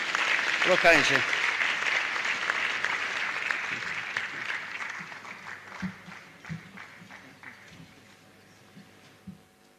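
An audience applauds at a University of Lagos convocation ceremony. A loud voice opens the clip, then clapping follows and gradually thins out, leaving scattered claps near the end.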